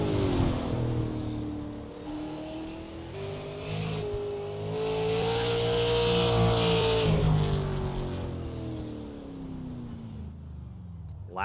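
A race car laps the New Smyrna racetrack during an ASRL Super Series race, its engine note climbing and then falling away as it passes, loud and sustained over about eleven seconds.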